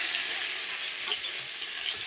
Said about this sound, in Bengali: এই যে তেজপাতাটা ফোড়ন দেব।